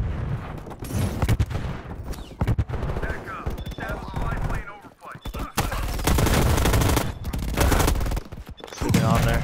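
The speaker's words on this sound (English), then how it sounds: "Getting shot at." Rapid automatic gunfire and bursts of shots in a Call of Duty multiplayer match on the Nuketown map, loud and near, near-continuous with brief lulls and a few sharp bangs.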